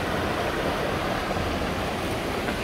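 Red Creek flowing where its branches meet, in Monongahela National Forest, West Virginia; a steady, full rushing of water fills the whole stretch with no break and no voices.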